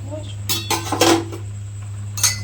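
Cooking pots clatter and clink in a home kitchen after boiled potatoes and dal come off the heat and rice is set to cook, a few sharp metallic knocks in short bursts over a low steady hum.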